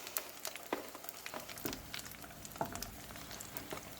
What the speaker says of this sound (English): You can hear them sizzling already a little bit.